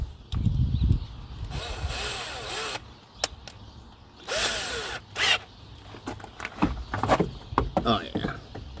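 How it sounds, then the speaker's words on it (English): A power drill drills out a hole in two loud whirring bursts, each lasting about a second, separated by knocks, scrapes and handling noises close by. "Hopefully this gets me enough length to get down into it and just drill it out."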